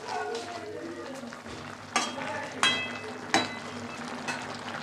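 A vegetable curry of broccoli, potato, carrot, peas and paneer simmers and sizzles softly in a pan, with a few sharp utensil clinks and scrapes against the pot.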